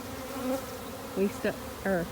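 Honey bees from a swarm buzz in a bee yard, a low steady hum with several individual insects droning loudly past close by in short bursts, no talking.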